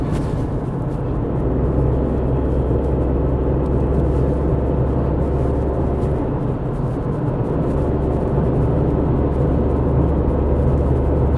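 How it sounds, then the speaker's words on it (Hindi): Tata Tigor CNG cabin at highway speed, a loud, steady low rumble of road and engine noise with wind hiss, constant throughout and no talking. "आवाज जरूर थोड़ी सी ज्यादा हो जाती है कार के अंदर, ये बात तो है।"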